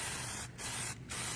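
Two short bursts of an aerosol spray can laying down a final wet coat of paint, close and loud, each hiss cutting off briefly between passes.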